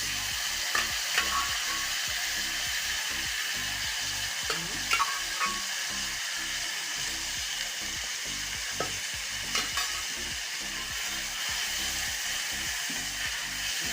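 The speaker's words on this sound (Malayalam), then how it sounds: "എന്നിട്ട് നല്ലവണ്ണം നമുക്കൊന്ന് വരട്ടിയെടുക്കാം" Beef stir-fries in a hot pan for a Kerala beef roast with a loud, continuous sizzle and intermittent clinks and scrapes of a spatula stirring.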